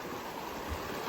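A stream rushes at a water crossing on the Pacific Crest Trail, giving a steady, full, close-up wash of flowing water with some wind buffeting, and no voices present.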